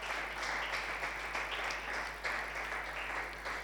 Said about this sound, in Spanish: Dele ese aplauso de libertad al Señor.